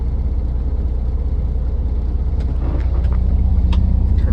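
A truck with air brakes idles nearby with a steady low rumble, then mechanical clicks and clunks follow near the end as the engine is shut off.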